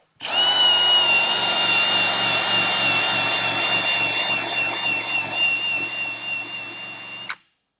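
A power drill fitted with a pinstripe eraser wheel whines steadily at high pitch for about seven seconds, close and loud, stripping pinstripes from a 1996 Ford Bronco with a grinding rasp underneath, then cuts off abruptly.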